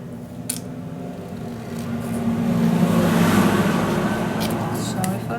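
A car passes outside an open window on a hot day, its engine and tyre noise heard from indoors and swelling gradually to a broad, fairly loud whoosh before easing slightly.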